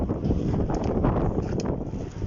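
Strong wind buffets the microphone outdoors during a teardown of equipment, a steady low rumbling roar with gusty swells and no clear speech.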